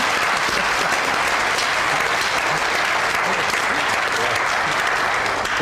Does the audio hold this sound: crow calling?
no